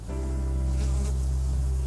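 Honeybees hum in a dense, steady swarm drone at an opened hive on a French apiary, loud and close with no voices.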